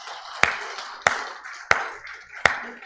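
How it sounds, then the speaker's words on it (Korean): Church congregation clapping during a Korean worship service: four loud, evenly spaced sharp hits about every 0.65 seconds, close and ringing, with no talk over them. "하나님 앞에 영광의 박수 돌려드립시다"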